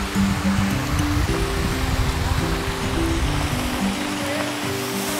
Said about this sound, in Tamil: ஒரு பைப்பில் தண்ணி வந்துருக்கு, மேலே இருந்து ஒரு வாட்டர் ஃபால்ஸ் எஃபெக்ட் கொடுத்துருக்குறாங்க